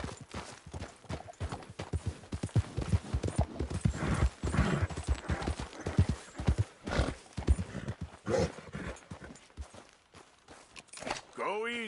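Horse hooves in Red Dead Redemption 2 clop in an uneven rhythm, near and loud, with a whinny and someone speaking over the hoofbeats.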